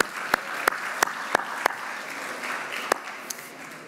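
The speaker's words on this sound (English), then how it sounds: "Can we have a round of applause again for all of our panelists and speakers?" An audience at a conference on technology for a sustainable planet applauds panelists and speakers, with a handful of sharp, separate claps standing out over a softer patter, fairly close.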